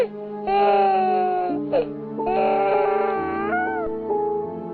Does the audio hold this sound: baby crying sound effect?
yes